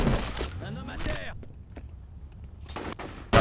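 Pump-action shotgun fire in a video game: a couple of sharp, fairly quiet blasts early on with metallic clatter, followed by softer game ambience and another short burst near the end.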